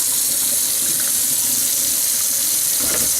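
Cold tap water runs steadily over tomato seeds in a colander, a loud, close, continuous splashing hiss with no voices.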